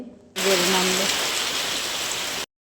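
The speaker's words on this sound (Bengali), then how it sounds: "একভাবে তিন দিন ধরে বৃষ্টি হচ্ছে" Steady, dense rain pours down close by, a continuous hiss, after a brief voice at the very start.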